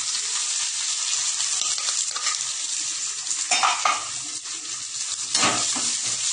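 Onions and curry leaves fry in hot oil in a pan, making a constant dense sizzle up close, with a few louder bursts of stirring toward the middle and end.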